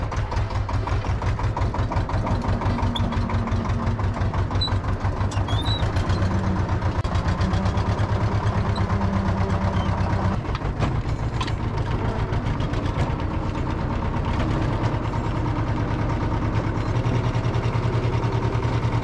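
A farm tractor runs steadily for the whole stretch as it pulls away with a manure spreader, its loud, close engine throbbing in a low, continuous drone with no talking over it.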